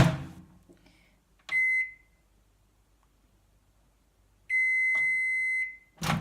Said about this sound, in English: you just hold this stop button down for 3 seconds and it beeps